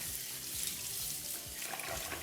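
Rice rinsed under a running kitchen tap, a soft steady stream of water splashing in a sink, faint and close, with no voices.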